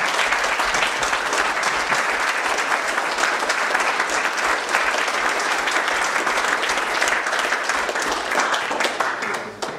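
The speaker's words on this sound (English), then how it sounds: "So I'd like to give them a round of applause." Loud, sustained applause from a large crowd at a non-league football club event, dense clapping continuing steadily throughout with faint crowd noise mixed in.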